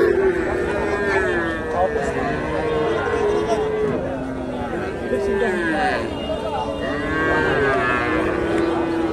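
Friesian cross bull calves, three to four months old, moo repeatedly at a busy cattle market in Bogura, with overlapping calls near and far over a steady crowd hubbub and voices.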